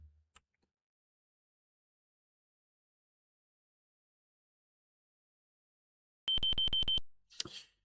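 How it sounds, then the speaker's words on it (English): Wristwatch in a video game giving a rapid burst of about five sharp electronic beeps, loud and close after a long silence, followed by a brief soft rustle. "A beep emanates from your wristwatch."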